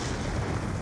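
Concussion grenade blast in Call of Duty Black Ops II, a short, loud, rumbling boom that fills the whole moment without any talking.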